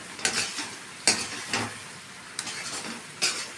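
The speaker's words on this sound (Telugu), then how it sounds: "ఇప్పుడు దీంట్లో మనము ఒక 2 నిమిషాలు ఇది వేగనియండి. ఇది బాగా కలుపుకోవాలి ఫ్రెండ్స్" Masala frying in a pan while being stirred, with a soft steady sizzle broken by several scraping strokes of a spoon against the pan at irregular intervals.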